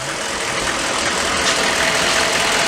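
A diesel shop truck engine that is running on bad fuel gives a loud, steady, close rumble with a dense broadband roar and no clear start or pauses.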